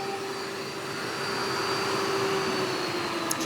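An Ecovacs Deebot T30 Pro Omni robot vacuum runs in standard suction mode, a steady whirring motor hum with a high-pitched whine and airy rush, swelling slightly in the middle and staying close and even without talk.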